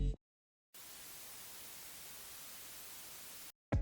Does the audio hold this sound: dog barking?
no